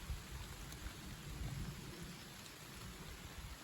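A heavy thunderstorm downpour pours down in a steady hiss of rain, with low rumbling thunder rolling faintly beneath it and rising slightly near the middle, distant and unbroken, with no voices.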